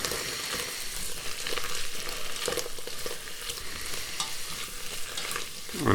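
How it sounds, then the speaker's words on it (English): Meatballs fry in a kettle with a constant crackling sizzle, broken by scraping stirs and clinks of a utensil, close and fairly loud, with no talking. "And fry them a little bit there."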